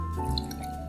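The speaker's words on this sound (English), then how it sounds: "So let's do 1 ounce of pickle juice." One ounce of pickle juice poured over ice while mixing a Caesar cocktail, a short, close trickle of liquid with a bright drip-like splash against a steady background hum.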